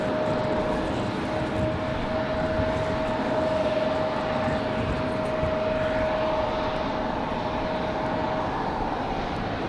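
A Delta Airbus A320 departs Raleigh-Durham, a steady, loud jet roar rumbling broadly and holding level throughout, with a faint sustained whine over it and no voices.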